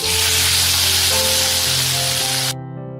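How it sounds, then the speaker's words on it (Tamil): Okra sizzling loudly in hot coconut oil in a pan, a dense, steady frying hiss close up that cuts off abruptly near the end, leaving a faint background hum. "இந்த வெண்டைக்காவை தேங்காய் எண்ணெயோட சேர்த்து 1 நிமிஷம் நல்லா வதக்கிக்கலாம்"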